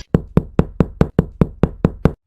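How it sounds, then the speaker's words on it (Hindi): Someone pounds loudly on a door, nine heavy evenly spaced knocks in steady rhythm, close and forceful, with no voices. "इतनी तेज तेज दरवाजा कौन खटखटा रहा है?"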